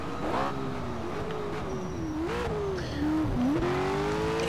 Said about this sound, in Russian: так как пищат тормоза